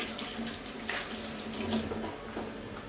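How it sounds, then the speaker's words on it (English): A tap runs steadily into a sink as hands are washed beneath it, a continuous close splash of water with small shifts in the flow and no talking. "just make sure you wash them thoroughly"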